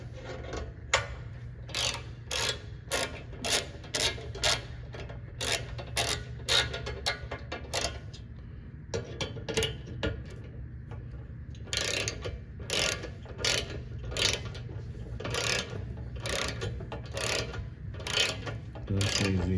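A hand ratchet clicks in quick, steady runs while tightening bolts during installation of an RMW Twin Peaks rear bumper, close and fairly loud, with short pauses between strokes over a low background hum.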